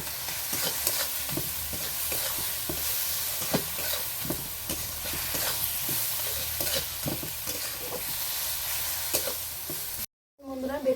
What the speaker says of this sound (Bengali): পেঁয়াজের উপরে অল্প করে লবণ দিয়ে দিচ্ছি, অল্প করে হলুদের গুঁড়ি দিয়ে দিচ্ছি। দিয়ে আমি মশলাটাকে ভালো করে কষে নিচ্ছি।